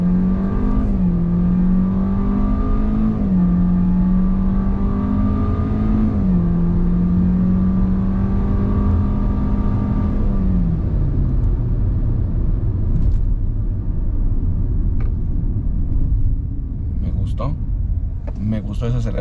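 A Kia Sonet SUV with an IVT transmission accelerates in Sport mode, its engine drone steadily rising in pitch with brief stepped shifts, then settling into a lower rumble of road and wind noise. Talk runs over the engine.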